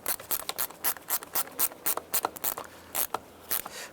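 A hand ratchet snugs down a fastener during a 2004-2009 Dodge Durango repair, sounding as quick, close, clicking strokes in a steady back-and-forth rhythm with no talking.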